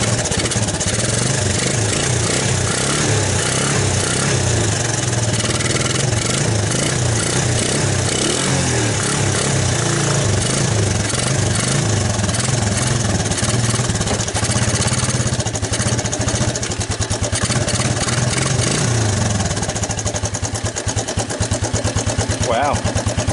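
An abandoned Suzuki ATV engine runs steadily and settles into a rough, continuous idle, loud and close throughout, with a person talking over it at times.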